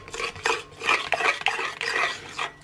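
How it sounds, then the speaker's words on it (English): A spoon stirs a chocolate and cream truffle mixture in a bowl, giving rhythmic wet scraping strokes at close range, repeated several times without speech. "get to work stirring your lovely mixture together"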